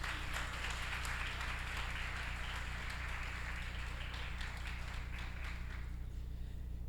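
A church congregation applauds during a worship service, a dense, steady wash of many hands clapping at once, moderately loud and sustained before tapering slightly at the end.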